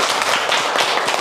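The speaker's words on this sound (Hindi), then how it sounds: "ताली बजाओ, गुड।" Schoolchildren in a classroom clap together, a dense burst of quick, loud hand claps lasting about a second.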